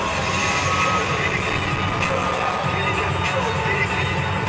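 The Langston crowd roars and cheers at the 2024 NAIA men's basketball national championship against College of Idaho, a loud, dense arena wash of shouting and whoops with a commentator's voice mixed in.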